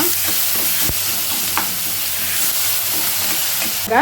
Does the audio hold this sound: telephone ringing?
no